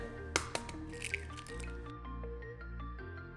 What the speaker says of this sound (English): Meanwhile, crack an egg.